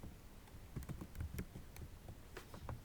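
Light, quiet tapping on a computer keyboard, a quick irregular run of keystrokes with short pauses between them.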